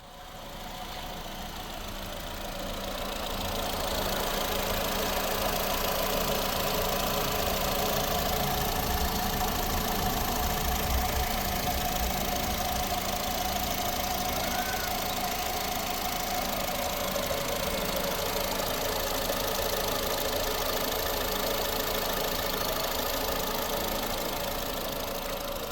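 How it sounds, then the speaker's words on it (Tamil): A 2011 Honda Brio i-VTEC petrol engine ticks over at idle, a steady low rumble with light knocking that starts softly and then holds even and unbroken for nearly half a minute. "இப்போ வண்டியோட இன்ஜினை ஸ்டார்ட் பண்ணி இன்ஜின் நாய்ஸ் காட்டுறேன்"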